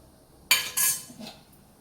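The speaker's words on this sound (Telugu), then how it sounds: "ఇప్పుడైతే ఇంకా మంచిగా ఉడకనిద్దాం మూత పెట్టేసుకుందాం" A metal lid is set onto a cooking pot of tomato moong dal, giving two sharp, close clanks in quick succession and then a softer knock as it settles, with no talking.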